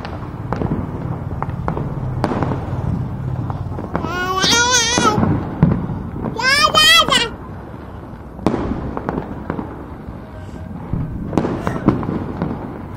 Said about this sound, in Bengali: দেখেছো মাম্মাম কত বাজি ফাটছে?